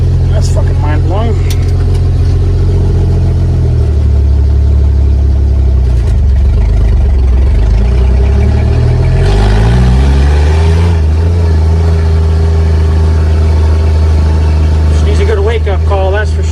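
Low, loud rumble of an International Harvester L-130 truck's engine idling and shifting in pitch as it runs, with gear changes, steady throughout and heard under someone talking.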